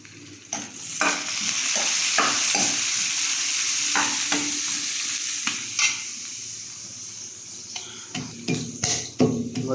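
Green chilies are added to a frying pan and stirred for a fish bharta, with a steady loud sizzle of hot oil broken by repeated scraping strokes of a spatula against the pan.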